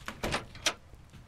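A sliding glass door opens in a store during a night-shift video game, a short, quiet mechanical slide with a few soft clunks.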